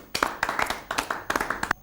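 An audience claps to welcome a poet at a Hindi poetry gathering, giving scattered, uneven claps in a few bursts that stay fairly close, with no talk over them.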